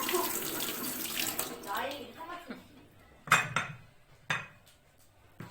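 Running tap water splashes while dishes and cutlery clink and clatter nearby, with a few sharper knocks; a voice is faintly heard at times.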